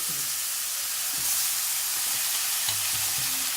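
Soffritto dropped into a pan of frying spices while making palak paneer, giving a steady bright sizzle and hiss with faint low stirring clunks beneath, continuous and close, with no voices.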